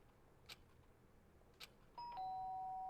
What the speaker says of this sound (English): The sharp sound of the doorbell pierced my sleepy haze and pulled me back into the real world.